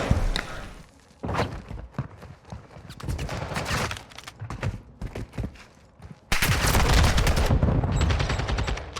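Gunfire in Call of Duty: Modern Warfare II during a competitive LAN match, rapid repeated shots and bursts close and loud, ending in a sustained dense volley.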